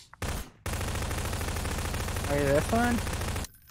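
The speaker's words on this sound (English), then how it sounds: "Why are you shooting? I hear gunshots, I'm scared." Rapid video game gunfire bursts, loud and continuous with dense repeated shots, while several people talk over it and one voice speaks briefly near the end.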